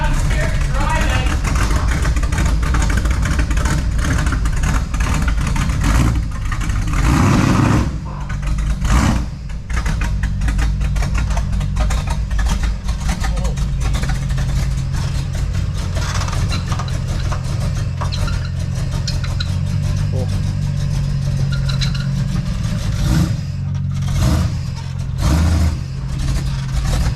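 Nissan 350Z engine droning steadily while driving, a loud low rumble with shifting revs under cabin road noise throughout, and occasional talk from inside the car.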